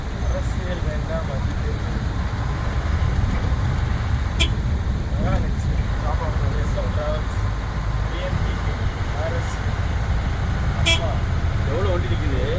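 Busy roadside near Erumeli with many vehicles standing and moving, a continuous low rumble of engines and traffic with scattered horn toots, while someone talks nearby over it.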